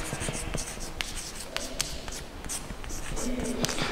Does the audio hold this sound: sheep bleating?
no